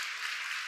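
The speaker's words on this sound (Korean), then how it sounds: "박수." Church congregation applauding in a steady, dense wash of clapping, quiet and continuous with no individual claps standing out.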